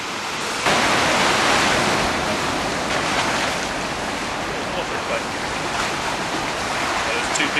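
Waves from the incoming tide wash steadily at the Bogey Hole ocean swimming pool, a loud, broad surging roar that continues close by for the whole stretch without talk.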